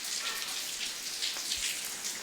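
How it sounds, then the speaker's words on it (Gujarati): Rainwater drips steadily from roof eaves just after a brief morning rain, a dense, soft patter of drops that fills the whole stretch without any speech. "વરસાદ આવ્યો છે ઠેઠ સવારમાં ઘડીક આવીને વીયો ગયો તો નેવા થઈ ગયા છે ચાલુ"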